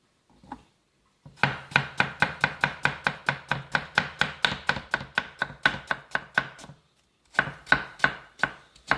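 Knife chopping through apples into thin slices on a board, a fast steady run of about two dozen crisp close cuts, a short pause, then a few more strokes.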